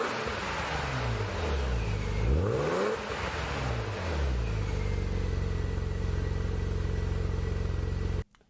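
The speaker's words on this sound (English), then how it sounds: "now that you've had a chance to listen to some of the Z3 aftermarket exhaust" A BMW Z3 with an aftermarket exhaust revs hard, climbing and dropping in pitch with a throaty rasp before settling into a steady idle, then cutting off abruptly.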